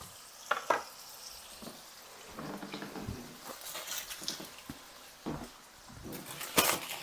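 A hamburger patty fries in a pan, giving a steady close sizzle with scattered crackles and a few sharper pops and spatula scrapes; no one talks.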